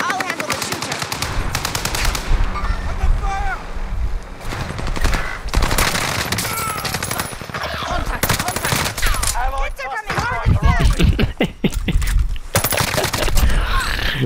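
Turret gunfire in a video game, heavy sustained machine-gun bursts firing almost continuously and loudly, with players talking over the shooting.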